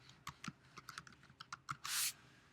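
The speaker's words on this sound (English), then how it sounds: "click in here and type in the word background" Typing a word on a computer keyboard: a quick run of about a dozen light, close key clicks, then a longer, louder press at the end, in a quiet room.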